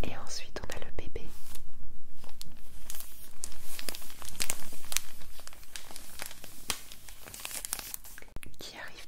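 Paper crinkles, tears and rustles close up as a Glitch Beauty makeup palette is unwrapped, busy and continuous, with soft whispering alongside.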